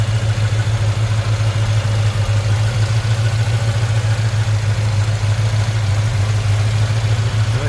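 A 1973 Ford Mach 1 with a 351 EFI V8 and long-tube headers idles, giving a loud steady low rumble that holds even throughout with no other sounds.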